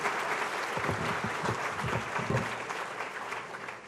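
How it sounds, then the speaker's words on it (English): A dinner crowd at a chamber of commerce annual dinner claps steadily for the whole stretch, the applause dense and even and fading slightly at the end, with faint voices beneath. "let's give them a big round of applause"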